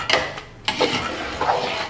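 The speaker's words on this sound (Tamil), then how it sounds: "நல்லா மிக்ஸ் பண்ணிவிடுங்க." A spoon scrapes and clinks against a pan while masala powders and tomatoes are mixed for chicken biryani, three or four close, distinct strokes over a faint background.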